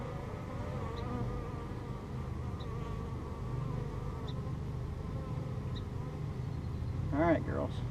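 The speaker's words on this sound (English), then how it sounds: "Get those bees out of there." A low, continuous buzz of many bees humming close by during a hive inspection, steady throughout, with a few faint higher tones near the end.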